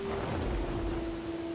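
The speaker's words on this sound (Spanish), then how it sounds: "viene la tormenta" Thunderstorm in the survival video game Dawn of Man: a steady wash of rain with a low rumbling bed of thunder, continuous and moderately loud, with a faint steady tone running over it and no talking.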